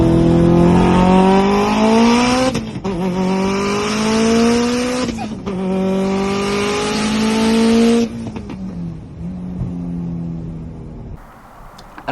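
A Subaru on a dyno makes a full-boost pull: the engine climbs through rising revs, drops back briefly between gears, pulls hard again, then winds down loudly and cuts off near the end.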